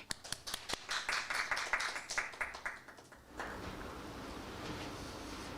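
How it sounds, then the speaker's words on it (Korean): A church congregation gives a round of applause, a burst of scattered, fairly distant clapping that stops abruptly, followed by quiet room noise. "두 사람의 장도를 축복하는 의미에서 큰 박수로"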